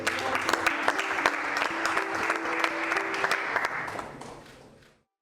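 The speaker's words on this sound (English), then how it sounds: "Please, ladies and gentlemen, a big round of applause." Guests at a business fest in a Dubai hotel give a big round of applause, with crisp, dense clapping and a few sharp standout claps that build, hold, then fade out to silence.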